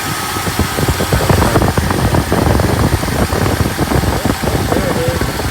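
A 1966 Ford Galaxie with a 7-litre engine idles steadily with a rough, lumpy, continuous rumble, close and loud throughout with no speech.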